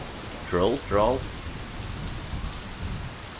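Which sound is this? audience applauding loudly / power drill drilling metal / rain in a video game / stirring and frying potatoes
rain in a video game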